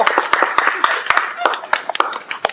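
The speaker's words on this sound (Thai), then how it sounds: "ปรบมือสิปรบมือสิบ" A few people clap by hand during a long-take music video shoot, loose irregular claps close by, mixed with people talking and some background noise.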